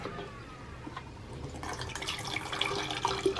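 Tap water running steadily into a container on a farm, a continuous splashing flow that grows fuller and louder toward the end, with no talk over it.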